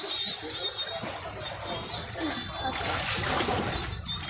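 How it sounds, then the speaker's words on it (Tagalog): Floodwater pouring into a flooded home and splashing, a steady wet rush and sloshing that runs throughout, with voices talking over it and a faint bird chirp in the background. "Yan na, yan na, pumapasok na na may tubig."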